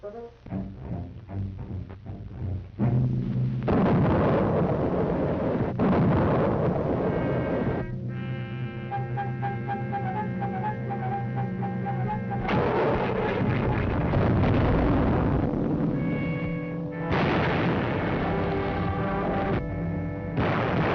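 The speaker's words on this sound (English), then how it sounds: "He ordered emplacements of the light artillery." Light artillery fire on a wartime battlefield: a long run of loud, rumbling booms and blasts, some rolling together, with no voices.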